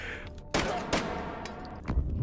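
Submachine gun fire in the VR shooter H3VR, with sharp bursts of shots around half a second and one second in, a denser volley near the end, and continuous game noise underneath.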